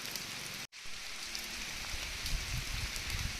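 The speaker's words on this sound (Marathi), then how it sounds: "लगेचच पाऊस एवढा जोराचा पाऊस आला आणि एवढं थंड पाऊस आहे" Heavy, cold rain pours steadily on a hillside, a dense continuous hiss of drops on the ground and surfaces that holds for the whole stretch with one very brief dropout near the start, no talk.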